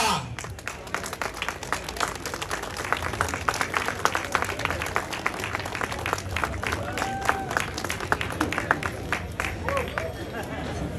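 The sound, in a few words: audience applause for an enduro legend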